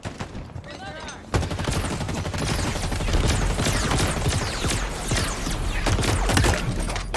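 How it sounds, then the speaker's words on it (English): Heavy gunfire in the Halo Infinite campaign's final battle, a dense, loud stream of rapid shots and bursts running almost without pause, mixed with game voices and effects. "Taking fire. Who's shooting at me?"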